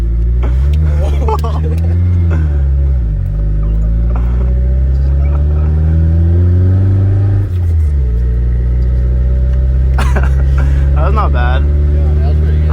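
A 1968 Fiat Spider 124 engine drones loud and close while drifting in snow, its pitch rising and falling with repeated revs and lifts, as people talk inside the car.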